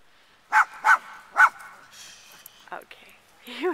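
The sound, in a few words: dog barking at scarecrows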